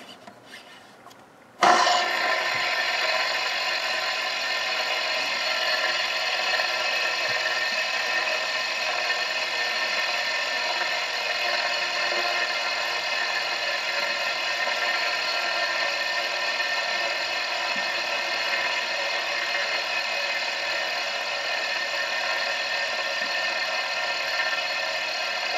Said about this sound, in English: if you're watching the spin test, the noise is amplified since it's on a wood background.